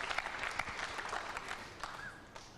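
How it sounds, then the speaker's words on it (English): A large audience at a 2000 World 9-ball Championship pool match applauds Efren Reyes with a steady, dense wash of clapping that carries on throughout. "they're applauding Reyes"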